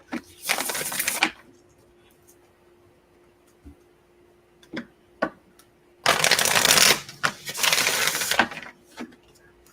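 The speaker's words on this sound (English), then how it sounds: "Shuffle, shuffle, shuffle." Two bursts of tarot cards being shuffled, crisp riffling flutters up close, separated by quiet stretches with a few light taps and clicks.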